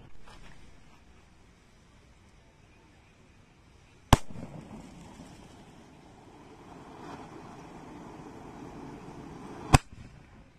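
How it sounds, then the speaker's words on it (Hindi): Paper bomb firecracker lit outdoors and bursting with two sharp, loud bangs several seconds apart, the first followed by a crackling, fizzing rumble that lingers until the second blast. "पेपर बॉम को जला के देखते हैं पेपर बॉम कैसा जलता है"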